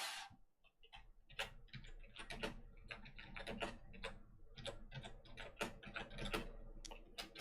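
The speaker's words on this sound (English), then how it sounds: "This is where somebody's already typing." Someone types on a keyboard nearby, a quiet, irregular run of sharp clicking keystrokes continuing for several seconds with no voices.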